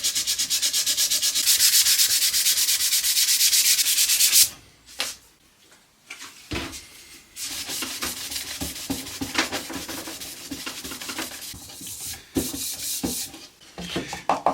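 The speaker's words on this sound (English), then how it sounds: "I just want to see what they look like with a bit of a sanding." Hand sanding of small drawers from a 200-year-old oak cabinet makes a close, loud, continuous rasping scrub, then pauses briefly and resumes as shorter, uneven rubbing strokes.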